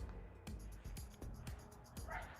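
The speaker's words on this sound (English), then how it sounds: "I got neighborhood barking dogs, so I apologize for that" Neighborhood dogs bark outside in a series of short, fairly distant woofs and yips at an irregular pace, over a background hum.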